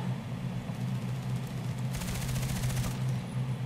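Rapid P90 gunfire in the shooter game Contract Wars, a steady automatic burst running throughout over a low engine-like rumble, loudest and sharpest near the middle of the exchange.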